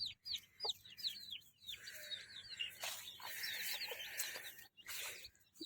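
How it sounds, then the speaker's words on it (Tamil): A black hen clucks softly among her five or six newly hatched chicks in a small poultry farm, with high chirps, low clucks and rustling heard faint and close and no talking. "இது ஒரு கோழி"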